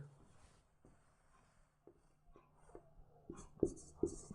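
Pen scratching on paper during a maths lesson, in short faint strokes with small taps and brief pauses, ending in a few louder marks.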